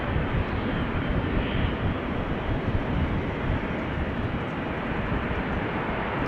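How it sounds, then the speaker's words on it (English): A KLM Boeing 777-200 arriving at Amsterdam Schiphol from New York JFK: a steady, dense jet rumble at moderate distance, unbroken and fairly even in loudness throughout, with no voices over it. "KLM 777 coming this way"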